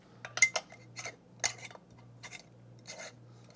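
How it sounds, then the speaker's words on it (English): Metal canning rings being twisted by hand onto glass jars, giving a string of short scraping, grinding rasps with brief pauses between turns, close and fairly quiet. "we're just gonna finger tighten them on."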